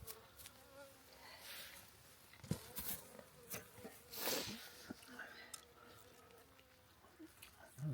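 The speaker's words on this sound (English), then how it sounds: "Got bees in here, coming in here trying to get the honey out or something." Honey bees buzz around honey frames indoors, a faint wavering drone with a few louder close passes and small knocks and rustles between them.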